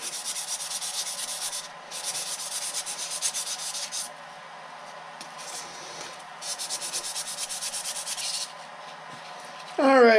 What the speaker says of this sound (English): Got some 400 grit sanding pads.